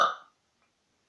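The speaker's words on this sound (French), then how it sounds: "je vais pouvoir faire des petits rots quand même" A single short, loud burp right at the start, close to the mic and fading within a fraction of a second into near silence.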